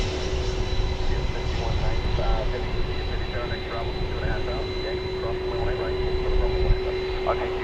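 A jet airliner at DFW Airport makes a steady, fairly loud roar that holds throughout, with people talking over the engine noise.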